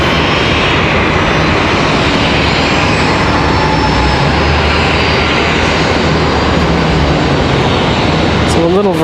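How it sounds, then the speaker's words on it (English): A Spirit Airlines Airbus A320neo jet at Charlotte Douglas International roars loud and close in a sustained, broad engine rumble that fills the whole stretch, with a talking voice partly buried underneath. "We've got a Spirit Airlines with the masked Neo."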